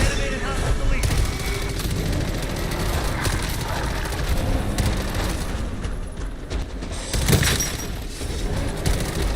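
Gunfire in a Call of Duty match, dense bursts of rapid shots and impacts crackling almost continuously at close range, with a louder volley near the end and players talking over it.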